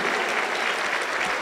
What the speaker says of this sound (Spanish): un aplauso para Cristo Jesús